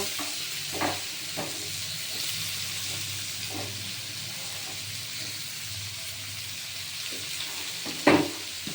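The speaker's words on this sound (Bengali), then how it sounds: "আলু আর ফুলকপিটা সুন্দর ভাজা হবে" Potato and cauliflower pieces fry in a pan with a steady close sizzle and hiss, broken by a few soft scrapes of stirring and one louder clatter near the end.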